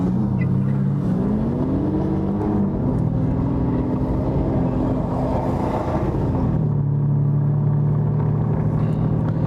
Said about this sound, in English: This is the first time I'm driving an Aston Martin.